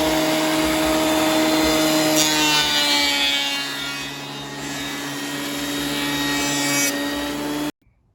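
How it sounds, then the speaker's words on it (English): Close scraping as glue is removed from wood, rough and continuous, with a steady motor hum in the background that cuts off abruptly near the end. "What we're gonna do is scrape all the glue off"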